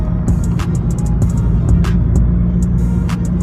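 Loud, modified exhaust of a Vauxhall VXR cruising steadily at about 43 mph in sixth gear on cruise control: a constant deep drone with a low rumble, holding even throughout with faint road noise above.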